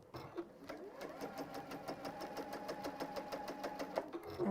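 A sewing machine stitches fabric around a corner in quick, even rhythmic bursts of needle clatter, close and fairly quiet, with short pauses as the work is lifted and readjusted.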